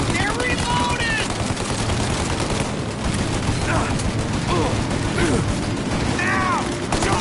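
Sustained bursts of gunfire crackle in Mafia Definitive Edition, rapid machine-gun volleys overlapping steadily throughout, with shouted voices mixed in.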